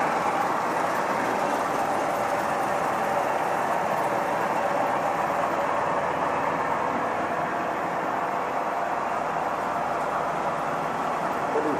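A finished band saw with a dull blade runs steadily, cutting through plastic buckets, its broad continuous whirring and rasping drone holding at a constant level throughout with no voices.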